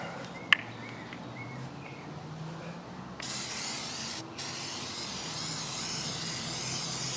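Aerosol protectant spray hissing onto a push mower deck in steady sustained bursts, close and fairly loud, with a brief click early on and faint birdsong in the background.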